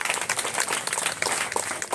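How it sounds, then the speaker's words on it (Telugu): A crowd claps for a teacher at an alumni felicitation gathering in Paturu, a short burst of dense, even applause, close and lively. "మళ్ళీ ఇంకొకసారి మన వేణు సార్కి కూడా క్లాప్స్ కొట్టాలని నేను అనుకుంటున్నాను"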